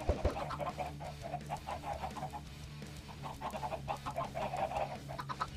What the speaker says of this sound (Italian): quante uova cagano queste galline?